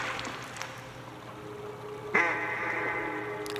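Duck quacking in the video game Tsioque: one sudden nasal quack partway through, over a steady game ambience with no talk.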